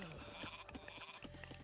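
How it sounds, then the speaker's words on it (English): A goat in a video game gives a short, faint bleat against a busy backdrop of game effects and background noise. "Moscow the goat. Look at him go."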